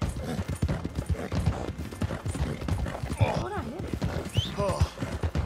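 Horse hooves clip-clopping in the video game Red Dead Redemption 2, a steady, fairly close rhythm of hoof beats, with a horse whinny partway through and a person talking over it.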